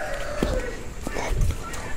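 A chicken on a rural homestead makes short clucks and soft fowl calls amid steady background noise, with a person's voice faintly present.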